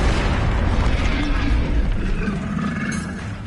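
The Expelliarmus spell fires in Hogwarts Legacy with a loud booming burst that fades over a few seconds.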